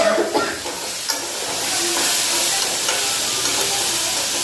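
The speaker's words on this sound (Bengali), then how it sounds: "এই যে দেখো ভেন্ডি ভাজাটা বসাই দিচ্ছি।" Okra (bhindi) frying in a pan at home, a steady loud sizzle and hiss with a few stirring clatters at the start, heard alone without talk.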